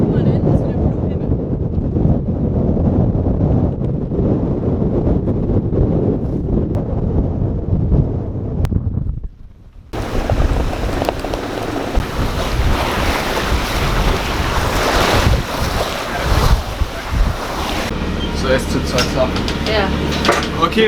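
Strong wind buffets a Sirius 35 DS sailboat on the Baltic Sea, waves washing and rushing against the hull; a muffled, sheltered stretch gives way to loud, broadband wind roar and surf, with voices faintly underneath.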